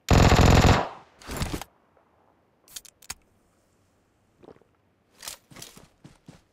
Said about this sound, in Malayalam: ഇവിടെ നിന്ന് എവിടെ നിന്ന് ഒരു വെടി വന്നല്ലോ നേരത്തെ